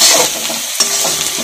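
Six or seven crushed garlic cloves fry in a hot pan, giving a steady, close sizzle with a stirring scrape partway through; no one speaks.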